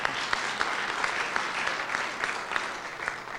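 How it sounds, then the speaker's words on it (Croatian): Steady applause from a seminar audience, many hands clapping in a dense continuous wash with occasional sharper claps, moderately loud and without talk over it. "I need an applause, please."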